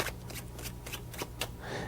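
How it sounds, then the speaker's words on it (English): Playing cards riffled and shuffled by hand in a magic performance, a run of quick crisp bursts of flicking paper close by, repeating several times with no talking. "I'll shuffle them until you say stop shuffling."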